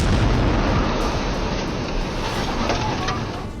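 Explosions from an Israeli airstrike in Rafa, southern Gaza, heard as a loud, continuous rumbling roar with heavy low booms that slowly fade, no voices.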